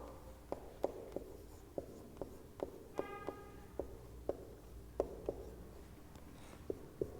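A pen writes a rectangle's area rule for a fourth-grade maths lesson, producing quiet, evenly spaced tapping strokes at close range over about seven seconds.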